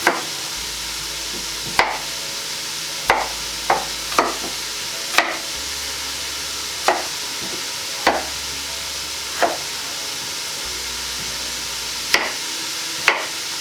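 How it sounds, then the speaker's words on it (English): Potatoes chopped on a board for leek and potato soup, sharp knife strikes landing singly at an uneven pace, close and clear over a quiet background. "just chop the potatoes as if you're going to boil them"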